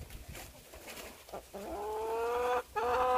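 A laying hen on her nest clucks a few soft times, then lets out two drawn-out, rising squawks close by.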